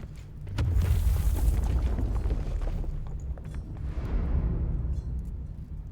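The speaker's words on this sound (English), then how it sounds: "Must be where the explosion originated." A deep, rumbling explosion booms in the dark fantasy video game Deathbound, swelling into a long roar of low debris noise that fades and then surges again.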